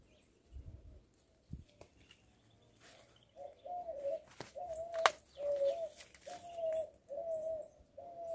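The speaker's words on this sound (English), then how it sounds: "Dogry, I think that bird is in love with your garden." A dove or pigeon coos in a garden, a steady series of soft, rhythmic, repeated coos at moderate distance, preceded by a few dull thumps.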